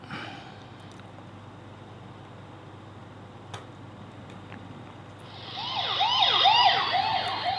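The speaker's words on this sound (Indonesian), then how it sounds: "Oke, hawa-hawanya udah sirene polisi ya." Police siren in a song intro, a wailing siren rising in after a quiet stretch and sweeping up and down loudly over the music toward the end.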